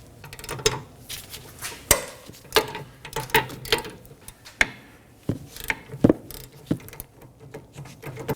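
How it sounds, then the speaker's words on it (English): Sharp metallic clicks and knocks from a wrench working loose two 19mm caliper bracket bolts on the rear brakes of a 2015-2023 Nissan Maxima, a series of separate close taps and cracks with short pauses between. "Now we're going to break loose our caliper bracket bolts."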